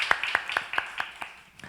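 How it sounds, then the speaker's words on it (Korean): A church congregation gives a short burst of applause after thanks for a meal served on a hot day: sharp, evenly spaced claps of several hands at close range, fading toward the end with no talk. "오늘 특별히 우리 박수 한번 하도록 하겠습니다"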